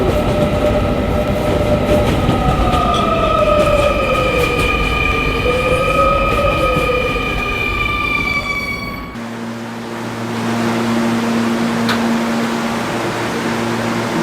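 An R220 subway train on the 11 local line rides along with a loud, steady rumble and rising, falling motor whine, then shifts into a lower steady hum with tonal drones near the end.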